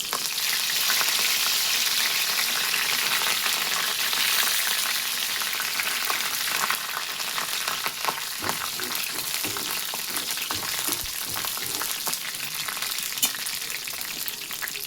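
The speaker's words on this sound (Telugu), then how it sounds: "సిమ్లో పెట్టుకుని వేయించుకుందాం అలాగే కరివేపాకు" Curry leaves frying on a low flame alongside garlic for a village-style amaranth dal crackle and hiss continuously, with dense popping spatters and stirring scrapes growing busier partway through, close and fairly loud.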